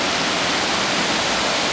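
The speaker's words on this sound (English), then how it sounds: "Watertown Waterfalls" The Watertown waterfall gives a loud, continuous rushing roar of falling water, steady and close, with no voices.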